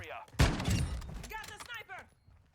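A sniper rifle shot in a 6v6 video game, one sharp loud blast followed by a short rumbling tail, with someone talking briefly before and after.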